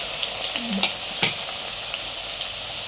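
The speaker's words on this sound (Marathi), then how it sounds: "हलवत राहणे म्हणजे एकसारखा आपला कांदा ब्राऊन होतो" Onions frying in hot oil over a medium flame until brown, a bright continuous sizzle with a few quick stirring scrapes, close and loud with no talk.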